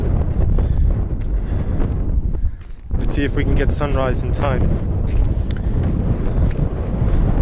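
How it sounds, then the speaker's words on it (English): Strong desert wind near Egyptian tombs buffets the microphone in loud, continuous roaring gusts, briefly easing midway, while people talk close by over it. "Yeah, the wind is strong."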